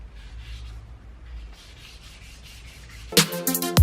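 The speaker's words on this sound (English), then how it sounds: "I'm gonna hit it just the polyurethane with like 320 just to rough it up a little bit" Polyurethane on a Honda S2000 part being scuffed with 320-grit sandpaper, a soft steady rubbing for several seconds, then a sudden louder, harsher scraping burst near the end.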